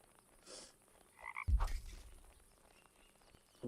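Frogs croak in a forest in a Roblox survival video game, with a couple of close, fairly loud croaks standing out against quiet ambience.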